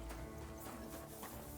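Horse hooves clip-clop on a road in Kingdom Come: Deliverance 2, a faint, quiet run of steps heard alone.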